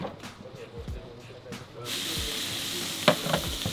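Tacos filling sizzles and roasts on a tacos machine, a steady frying hiss that swells partway through, with brief scraping and stirring clatter up close.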